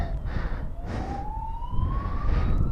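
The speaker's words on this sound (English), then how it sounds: "there's a police car at the roundabout coming down the hill" A police siren wails in the distance from a car at a roundabout coming down a hill, rising steadily in pitch over a low rumble of traffic, with no one speaking.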